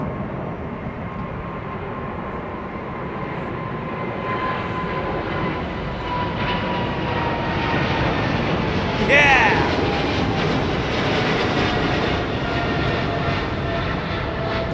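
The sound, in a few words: airplane engines at London Heathrow Airport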